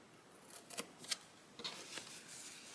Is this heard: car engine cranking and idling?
no